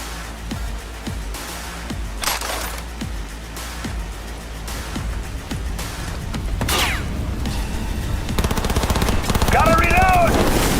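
Gunfire in the Cyberpunk 2077 video game, repeated shots in rapid bursts layered over dense game music and effects, loud and continuous through the whole stretch.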